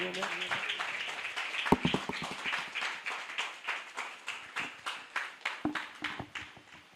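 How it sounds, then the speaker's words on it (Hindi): A church congregation in Pakistan applauds to welcome a pastor: a burst of crowd clapping that settles into a steady, rhythmic beat of loud claps, with a voice heard briefly at the start. "तो मैं वेलकम करूंगा, मदू करूंगा पास्टर इकबाल शफीक को, आप सबकी भरपूर तालियों में।"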